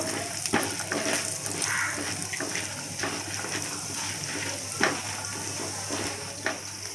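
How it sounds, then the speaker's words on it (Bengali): Peanuts, chickpeas and dried peas fry over a raised flame in a wok, giving a constant close hiss and sizzle with occasional light stirring clicks and no talk. "প্রথমে আমি দিয়ে দেব এই বাদাম আর ছোলা, এই মটর ডালগুলোকে আমি কড়াইয়ে ভেজে নেব।"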